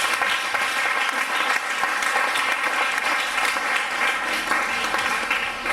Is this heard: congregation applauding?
yes